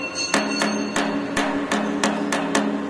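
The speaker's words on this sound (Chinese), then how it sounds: "橡皮锤，用橡皮锤敲一敲。" A rubber mallet taps a metal blade holder on a shoelace and bag handle tipping machine, striking about eight loud, evenly spaced knocks that ring out over a steady background hum.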